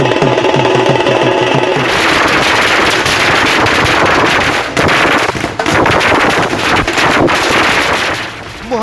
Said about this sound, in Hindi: मोहल्ले में आतिशबाजी